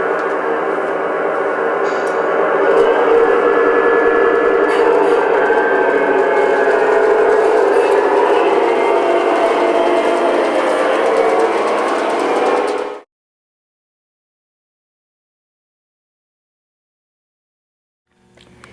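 An LGB garden-scale model train engine idling with its onboard sound module switched on, a steady buzzing drone that holds loud and unbroken before cutting off abruptly into silence.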